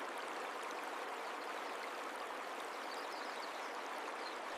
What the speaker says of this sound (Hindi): साफ हीरे के जैसा बहता पानी